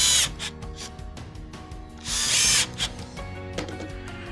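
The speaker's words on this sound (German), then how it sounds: "dann schrauben wir das Ganze fest." A power screwdriver drives screws into a Grass Kinvaro T-Slim soft-close flap hinge, with short whining bursts, a ratcheting clutch rattle and a louder final run, close and without talk.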